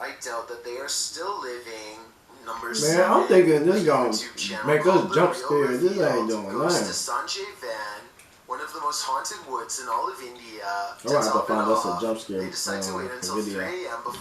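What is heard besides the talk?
No everyday noises stand out.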